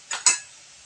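A spoon clinks twice against a cooking pot while masala is stirred with sour yogurt for a pointed gourd and lentil dish. The two quick, faint metallic taps come close together, then fade into quiet.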